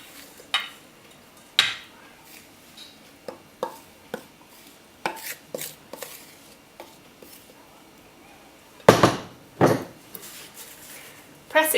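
Gingerbread mixture pressed into a greased, lined tin with the back of a wooden spoon, giving scattered soft knocks and scrapes against the tin, irregular and close, with a louder clatter of two sharp knocks near the end.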